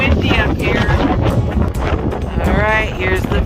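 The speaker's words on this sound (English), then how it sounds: "Alright, it's quite windy up here." Strong wind on an exposed mountain ridge on a snowy, foggy day, buffeting the microphone with a steady loud roar throughout while a person talks over it.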